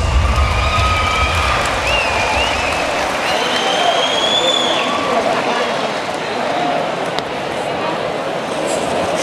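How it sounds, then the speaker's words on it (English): A crowd at a women's fight event claps and cheers steadily at the end of a round, with a loud announcer's voice carrying over the applause. "A round of applause for our female warriors!"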